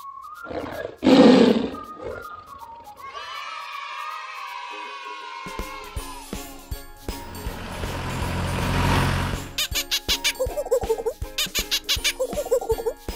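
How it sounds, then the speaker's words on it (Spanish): A tiger roars in one loud, close burst early on, followed by varied rumbling and squeaky layered sounds and a series of rapid rhythmic pulses toward the end. "Tigre."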